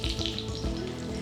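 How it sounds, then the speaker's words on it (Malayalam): Sliced onion rings frying in hot oil, a steady close sizzle with faint bubbling throughout, alone with no talk. "ഇത് ലൈറ്റ് ബ്രൗൺ ആകുന്ന വരെ ഇത് ഫ്രൈ ചെയ്തെടുക്കാം."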